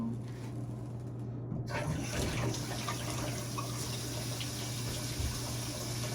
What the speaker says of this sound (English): So I can see you got plenty of water going down there.